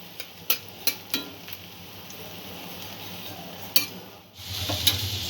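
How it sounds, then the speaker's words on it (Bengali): Chopped ginger goes into a pan for tomato chutney: a few metal spoon clinks and taps against the pan, then a steady hiss of frying swells up near the end. "আদা কুচিটাও দিয়ে দেব। অল্প একটু ভেজে নেব আদাগুলো।"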